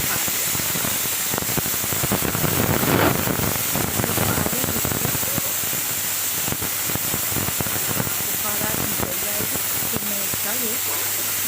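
Steam hisses continuously from a pressure cooker whistle being released after cooking beef stew, a loud broadband rush that holds steady throughout with someone speaking over it.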